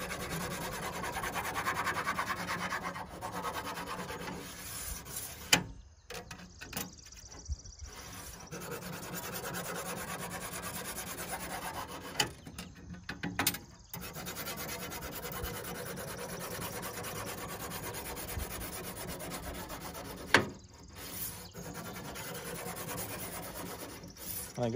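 A sharpening stone rubs steadily along the blade of a fir-shearing knife, a faint, continuous rasping scrape that runs on for many seconds with a few short pauses and knocks.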